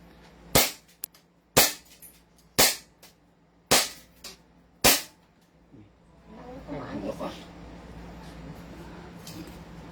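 SRC airsoft pistol firing five sharp, evenly spaced cracks over about five seconds, close and loud, then quieter shuffling handling noise and faint background sounds.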